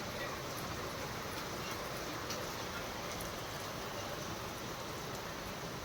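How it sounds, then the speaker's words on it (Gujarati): Heavy afternoon rain falls steadily as a dense, even hiss of drops with faint ticking, holding an unbroken level throughout and no clear voices. "આ રીતનો ચાલુ થઈ ગયો છે બપોર પછીનો વરસાદ છે"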